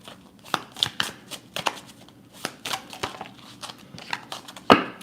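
Tarot cards are shuffled by hand in quick irregular bursts of crisp riffling and slapping, close and fairly quiet.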